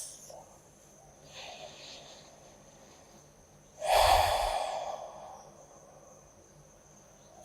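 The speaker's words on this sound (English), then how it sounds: "Deep inhales and exhales." Deep yoga breathing during a morning vinyasa session: a faint inhale early on, then one loud, close, airy exhale that fades slowly against a quiet room hum.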